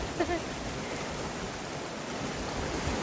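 A stream flows steadily at a campsite away from the city, a dense, even rush of water close by with no talk over it.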